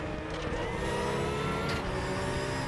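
Audi TT Cup race car in the RaceRoom racing game, its engine holding a loud, steady high-revving drone with a slight pitch rise, close and continuous, no talk.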